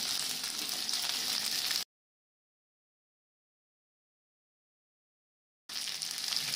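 Onions and capsicum fry in a pan for jackfruit chilli, a steady close hiss of sizzling oil that cuts out to silence for several seconds and then resumes just as loudly.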